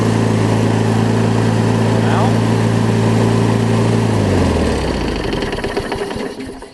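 A Tecumseh engine on a push mower runs loud and close with a steady buzzing drone, then winds down and cuts off near the end.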